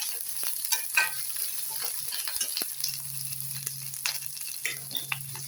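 Tomato and ginger paste frying in oil for banana stem curry, a continuous close sizzle with sharp spatula scrapes and stirring clicks scattered over a low steady hiss.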